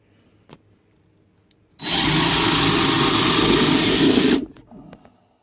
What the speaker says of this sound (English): I'm pre-drilling my holes